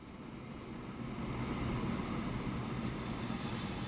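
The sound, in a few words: train arriving in the video game Transport Fever 2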